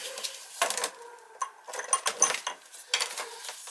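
A small Phillips screw being loosened on an oil boiler during servicing: faint, close metallic clicks and scraping ticks in short irregular bursts, with a hollow ringing tone underneath.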